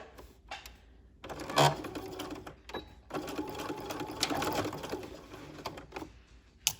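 Sewing machine sewing a quarter-inch seam along a fabric strip for a spaghetti strap, a close run of rapid mechanical stitching with short pauses and a brief backstitch burst, no talking.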